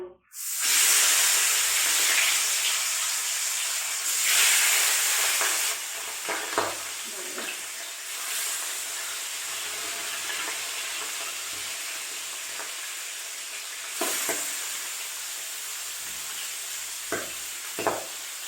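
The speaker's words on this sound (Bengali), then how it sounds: "তেলটা গরম হয়ে গেছে, গ্যাসটা একটু বাড়িয়ে দিলাম। দিয়ে এবার মাছের মাথাগুলো ছাড়বো।" Katla fish heads dropped into hot oil in a pan, erupting in loud spitting sizzle that settles into a continuous frying hiss, broken by occasional bursts of stirring and crackle.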